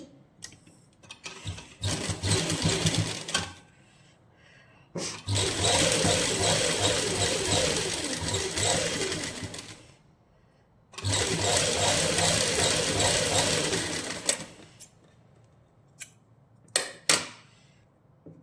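Sewing machine stitching a seam along lace on a suit sleeve, running in loud sustained bursts of rapid mechanical chatter with short quiet pauses between, plus a few brief clicks near the end.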